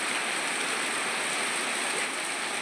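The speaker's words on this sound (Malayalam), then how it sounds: "നല്ല മഴ കേട്ടോ, നല്ല മഴയായപ്പോൾ ഞാൻ ഷോർട്സ് ഇട്ടത്." Heavy rain falls in a steady, dense hiss that stays close and even throughout, with no voices.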